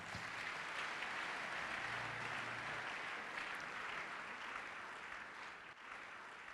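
Church congregation applauding at the opening of a Sunday worship service, a steady dense wash of clapping that holds evenly throughout with no voices rising above it.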